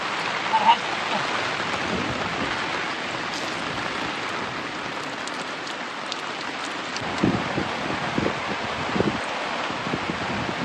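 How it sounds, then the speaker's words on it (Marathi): Heavy rain pours steadily, a dense continuous hiss of drops striking surfaces, with a few louder splashes now and then. "आज म्हणजे पावसानं जोरात हजेरी लावली"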